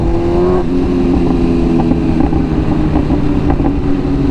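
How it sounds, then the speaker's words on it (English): A BMW S1000RR motorcycle fitted with a loud custom full exhaust, catalytic converter removed, revs hard and steadily up close, its engine note rising and falling with sharp crackles and pops breaking through. "I'm so glad that I got an exhaust that does the pops"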